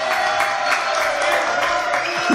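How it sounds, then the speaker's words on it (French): A studio audience on a French TV show applauds Florian, a continuous wash of clapping and cheering at a constant, fairly loud level. "Donc, applaudissements pour Florian."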